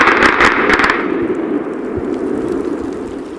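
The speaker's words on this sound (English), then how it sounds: "It's gonna explode." A petard firecracker blasts inside a school gym or concrete tub, a loud opening crack followed by a long, booming reverberant rumble that slowly fades.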